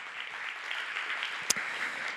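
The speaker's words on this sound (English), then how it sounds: "So one other round of applause for Nieves" Applause from a tech summit audience, a steady dense wash of clapping held at an even level throughout, with one sharp knock midway.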